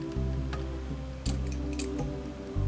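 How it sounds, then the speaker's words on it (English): Thinning scissors cutting through hair held up during a cornrow closure weave styling, three crisp metallic snips spaced about a second apart over a low steady hum, close and alone. "you hold the hair and then your scissors goes in"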